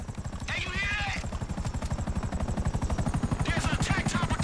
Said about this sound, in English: There's an attack chopper coming after me,